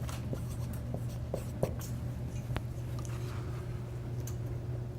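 Pen or pencil writing on paper during an angles lesson, a steady soft scratching with a few small taps, close and quiet over a constant low hum, no talking.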